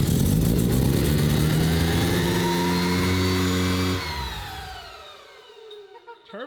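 A turbocharged FC car engine, started after sitting 15 years, idles with a steady low throbbing hum, then the revs fall away after about four seconds and the sound fades toward quiet.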